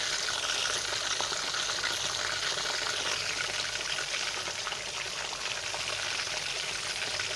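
Chicken for an English-style roast frying in hot oil over a high flame, a constant close, hissing sizzle with faint crackles, steady and uninterrupted with no voices.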